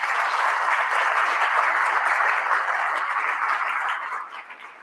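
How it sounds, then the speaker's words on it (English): An audience applauds capstone project presenters at an invitational event, a dense, even wash of many hands clapping that holds steady and then tapers off at the end. "One more time, a round of applause."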